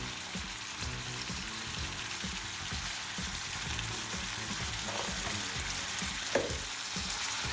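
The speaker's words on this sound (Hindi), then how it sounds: "अब इसमें हम क्यूमिन सीड ऐड कर देंगे" Cumin seeds sizzle steadily in hot oil as a chicken sandwich filling is cooked, a dense continuous frying hiss with occasional small pops and stirring clicks, close and even throughout.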